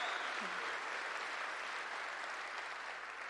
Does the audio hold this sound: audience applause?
yes